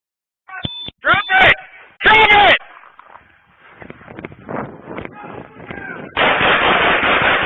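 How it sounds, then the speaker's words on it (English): Several sharp, loud gunshots ring out in quick bursts during a police confrontation with a suspect on a street, followed by a stretch of shouted voices and a harsh loud burst at the end. "Shots fired, shots fired."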